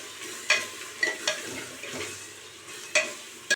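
Masala being sautéed in a pan for Tamil-style tomato rice, a soft steady sizzle broken by several sharp clacks of a spoon stirring against the pan.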